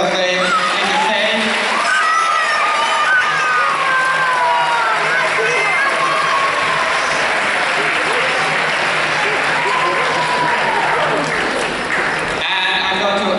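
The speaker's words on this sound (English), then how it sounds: "Give them a round of applause as they say." School audience at a winter concert applauding, a dense, sustained wash of clapping with scattered cheers and children's shouts, steady for over ten seconds before breaking off near the end.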